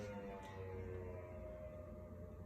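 A steady engine drone of snowmobiles passing outside hums with a faint rising whine, continuous and fairly distant.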